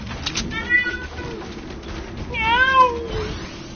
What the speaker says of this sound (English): You hear my fucking cat all drawling and shit?